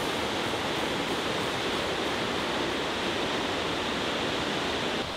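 Steady broadband rush of a waterfall beside a hiking trail, a continuous dense roar with no pauses, close and fairly loud, with no voices.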